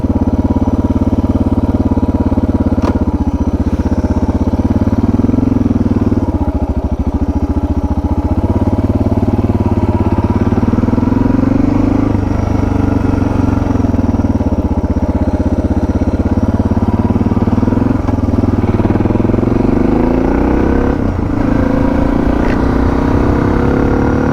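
A Suzuki DR650 motorcycle engine with modified exhaust and carburetor drones loudly and continuously, its pitch rising and falling as it revs repeatedly, close up with no talking.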